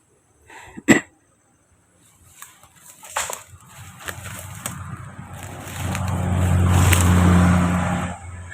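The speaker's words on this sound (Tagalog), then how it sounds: "May sasakyan na puti day." A white car passes by outdoors, its engine noise rising steadily and swelling to a broad rumble near the end, after a sharp nearby sound and scattered clatter early on.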